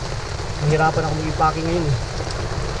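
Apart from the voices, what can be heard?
heavy rain falling at campsite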